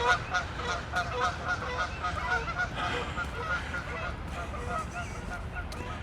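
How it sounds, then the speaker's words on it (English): Geese honking as they fly overhead beside a misty lake in Regina, a dense continuous chorus of many loud overlapping honks, close and steady, with some background noise. "One always worries a little when a goose flies over one's head"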